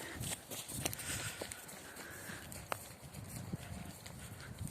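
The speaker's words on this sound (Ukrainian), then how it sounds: "приємно їхати на конях верхом" Horse hooves clip-clop at a steady walking pace under a rider over a noisy outdoor background, with a few sharper knocks standing out.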